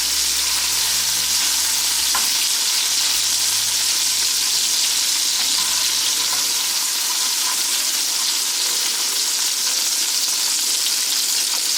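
Sriracha meatballs sear under a lid in a covered pan, a steady broad hissing sizzle running unbroken and fairly loud throughout, with faint crackles and a low background hum early on.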